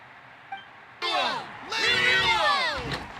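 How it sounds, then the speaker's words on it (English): Crowd cheering in the Genshin Impact video game, a swelling roar of whoops and shouts that rises abruptly and sustains loudly, broken by a short dip before surging again. "Hear that? The exhilarating cheers of the crowd."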